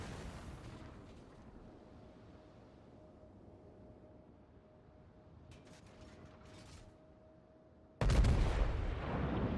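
A battleship in World of Warships fires a full broadside. A sudden, heavy, booming blast lands near the end and stays loud, after a stretch of low mechanical rumble and creaking with no voices.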